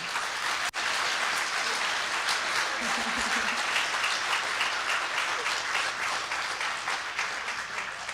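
An audience gives a sustained round of applause for graduates and participants at a county drug court graduation ceremony, a dense steady wash of many hands clapping, fairly distant and even, with a brief thump near the start.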